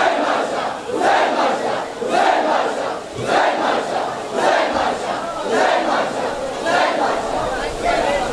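A large crowd at a Shia majlis gathering in an imambargah chants slogans loudly in repeated rhythmic surges, roughly one per second, voices massed together and filling the space.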